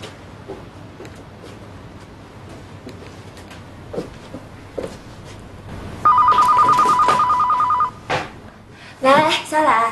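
A telephone ringing indoors in a TV drama: two loud electronic ring bursts near the end, preceded by quiet room sounds and short bits of speech.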